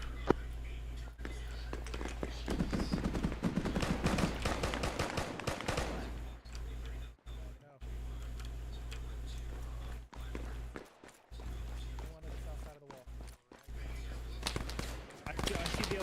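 Gunfire rattles in the co-op military game Operation Harvest Red, a dense burst in the first seconds followed by scattered shots, with radio-style voices talking over and between them.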